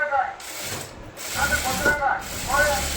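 A sewing machine runs on a blouse seam in short bursts of rapid mechanical stitching, near and moderately loud, with brief pauses between runs.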